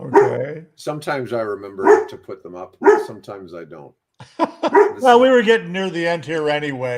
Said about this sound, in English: sorry about the dogs chiming in